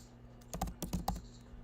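Quick typing on a computer keyboard, a short burst of about a dozen close, crisp key clicks clustered in the middle, over a faint steady electrical hum.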